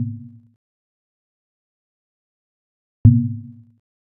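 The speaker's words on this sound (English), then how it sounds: "When it's hit in the middle," A synthesized virtual drum on a multi-touch interface, struck in the middle, gives a low, thudding hit that decays quickly, with a second identical hit about three seconds later after silence.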